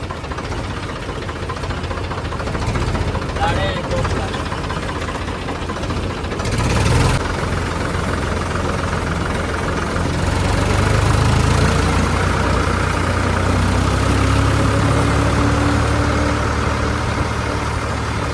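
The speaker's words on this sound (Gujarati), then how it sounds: "જઈએ ટ્રેક્ટર લઈ" A heavy tractor engine idles steadily with a low, continuous rumble and slight knocking throughout, loud and close, with no voices.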